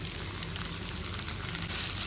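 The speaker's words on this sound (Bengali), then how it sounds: "পাঁচ থেকে ছ মিনিট রাইসটাকে কিন্তু ভালো করে ভেজে নেব" Steady, close sizzling and crackling of marinated rice frying in hot oil, continuous and fairly loud with no talking.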